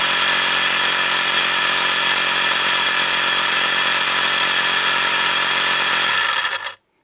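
Homemade electric vacuum pump running with its valve fluttering, a loud steady buzzing drone held throughout before it cuts off abruptly near the end, close up and with no voices.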